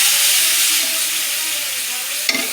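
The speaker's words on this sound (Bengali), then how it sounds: "দেখো তার মধ্যে টমেটো অ্যাড করে দিয়ে দিলাম, নাড়াচাড়া করে নিলাম" Tomatoes sizzle and crackle steadily in a frying pan with whole spices while a spoon stirs them, ending in a brief scrape near the close.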